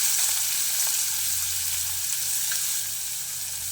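Chopped onion dropped into hot oil with whole cumin seeds sizzles steadily and close, a dense even crackle with no voices.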